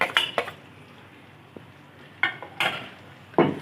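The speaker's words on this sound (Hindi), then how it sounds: "इनको हम अच्छी तरह से भूनेंगे जब तक हमारी प्याज ट्रांसपेरेंट नहीं हो जाती" Onion, coriander and green chillies are stirred as they fry in a pan for palak daal: a few sharp metal utensil clinks and scrapes against the pan over a faint, quiet background.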